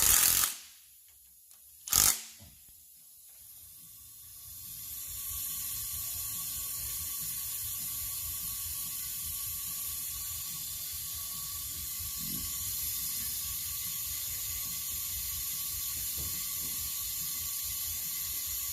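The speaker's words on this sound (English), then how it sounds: "And we'll tighten down the gasket." A ratchet wrench clicks away steadily and close up as it tightens the head gasket bolts on a 5.9 Cummins diesel engine, with a few sharp knocks at the start and then a long, even stream of pawl clicks.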